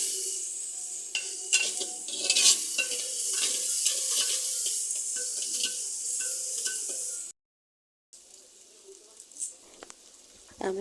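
Crushed onion, garlic and chili hitting hot mustard oil in a pan, a bright loud sizzle with scattered scraping and clinks that drops out into silence near the end before a quieter return.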